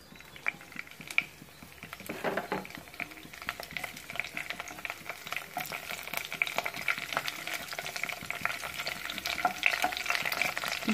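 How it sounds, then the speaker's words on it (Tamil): Mustard seeds and curry leaves crackle and sizzle steadily in hot oil for an Indian brinjal curry, with dense popping and spattering that grows busier over time. No one speaks. "எண்ணெய் ஹீட் ஆகிடுச்சிங்க. இப்போ கடுகு போட்டலாம்"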